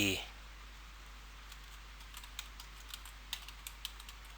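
Faint, quick keystrokes on a computer keyboard as FTP account details are typed, a sparse run of soft clicks that grows busier toward the end in a quiet room.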